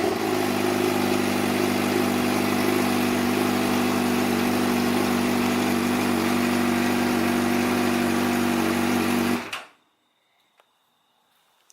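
Suzuki GSX-R motorcycle engine with a straight-piped exhaust idling steadily and loud at close range for several seconds, then shutting off abruptly into near silence.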